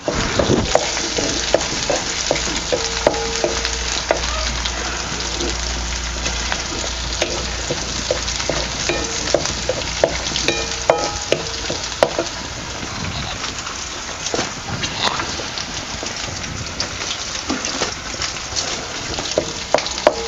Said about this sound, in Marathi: लसून आता खमंग तेलात तळलेला आहे